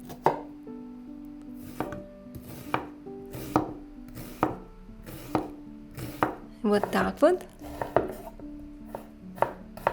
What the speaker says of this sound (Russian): Лук тоже мелко нарезаем.